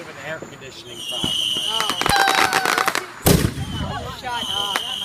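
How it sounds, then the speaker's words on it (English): Scattered sharp firework bangs and crackles from a Fourth of July celebration, with one loud close blast near the end, heard under ongoing chatter from a group of people. "Huge fireworks."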